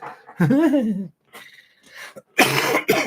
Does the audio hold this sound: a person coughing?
yes